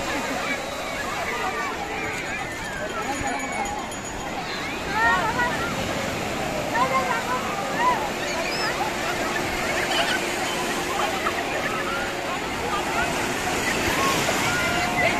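Sea waves wash in at Puri beach, a broad steady roar of surf mixed with wind buffeting the microphone, while people talk and shout nearby over the water throughout.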